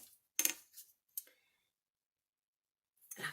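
Scissors snipping dress pattern paper in a few short, crisp cuts: a sharp pair of snips, a faint lighter click, then a pause of silence before another brief snip at the end, close and quiet.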